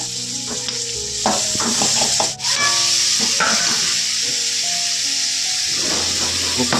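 Chilli masala stirred in a frying pan, with loud close sizzling and rubbing scrapes of a utensil against the pan in irregular strokes over a steady frying hiss.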